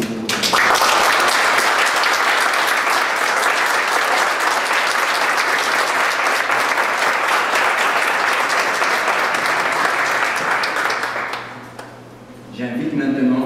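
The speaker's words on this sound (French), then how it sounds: "Mesdames et messieurs, applaudissons chaleureusement les nouvelles régentes et les nouveaux" A university campus audience at an investiture ceremony applauds new graduates, with loud, continuous clapping that holds steady for over ten seconds, then fades and gives way to a voice over the room.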